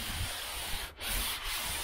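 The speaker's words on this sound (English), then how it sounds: "So pretty much we're gonna get all the roof and the quarter panel ground down to shiny metal" Old body filler ground off the roof of a 1972 Chevy Nova down to bare metal, a continuous close abrasive hiss and rub with two brief dips in pressure.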